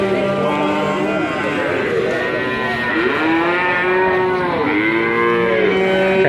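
Cattle moo repeatedly at a cattle market in Ambarketawang, several long drawn-out calls overlapping one another amid a steady crowd murmur and background chatter.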